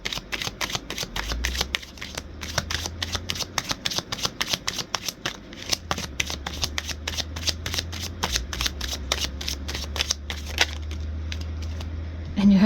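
A deck of tarot cards is shuffled close up in a long run of rapid, crisp riffling clicks, with a faint low hum beneath and little talk.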